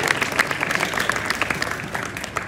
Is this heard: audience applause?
yes